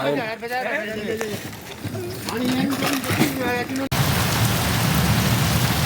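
Steady heavy rain from a cyclone pours, loud and close, following a stretch where people talk over softer rainfall while buffaloes are milked.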